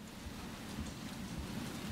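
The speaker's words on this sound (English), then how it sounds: "Rain." Steady in-game rain in Resident Evil 2 falls continuously, a soft broadband hiss with low rumbling underneath, no voices heard.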